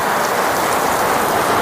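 Heavy artificial rain pours continuously onto a camper van during a leak test, a close, loud, even wash of spray pattering on the roof and panels.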